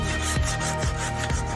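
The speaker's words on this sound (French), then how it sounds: "tu essaies de couper et de tenir ta scie à 2 mains" Hand saw rasping through a tree branch during pruning, with steady rhythmic strokes, a brief dip at each turn of the stroke, close and moderately loud.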